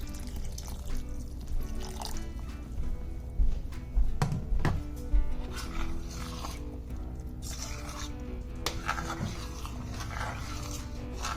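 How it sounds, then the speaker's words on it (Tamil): Hot water poured into brown rice and urad dal kanji, a steady liquid pour with drips and clinks of the pot, a low hum beneath it. "சுடு தண்ணி தான் ஊற்றுறேன்."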